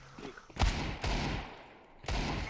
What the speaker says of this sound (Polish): O, i proszę, strzela teraz do nas.